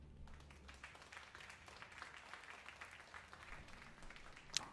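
Audience applause at an esports StarCraft tournament, a soft, distant patter of clapping from a crowd that carries on evenly for several seconds with a faint sharper sound at the end.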